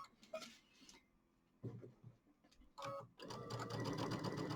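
A sewing machine stitches a quarter-inch seam on a fabric bench pillow, running in three short bursts that grow into a steady, fast, close whir, with quiet handling noises in the pauses between.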